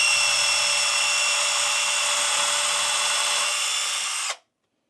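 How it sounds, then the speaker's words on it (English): A Sundpey 21V cordless drill on its high-speed setting bores a hole in a steady, loud, close whine that holds for about four seconds before stopping abruptly into silence. "We're going to drill a hole, see how this drill works into that"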